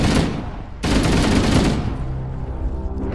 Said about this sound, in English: Let's take out our assault rifle.